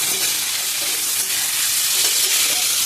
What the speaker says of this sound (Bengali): আলু ফুলকপি ভাজা হয়ে গেছে লাল লাল করে